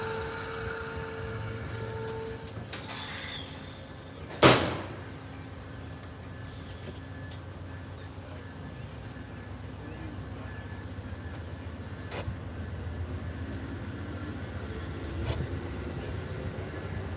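Freight train pulling out of the station at Ashland, Virginia, a low rumble of rolling cars heard from trackside with a sharp hiss burst early on, occasional clanks and birds chirping nearby.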